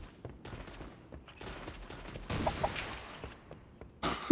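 Video game gunfire in the shooter Creative Destruction, with scattered rapid bursts of shots and a louder volley partway through, heard without speech.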